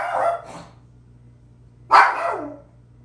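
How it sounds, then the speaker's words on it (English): Dogs barking outdoors: a short pair of barks, then a pause, then one louder, sharper bark, set against a steady low background hum. "The dogs, man. The dogs are acting up."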